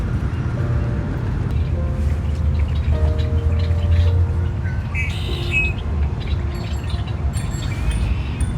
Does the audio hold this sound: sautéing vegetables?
no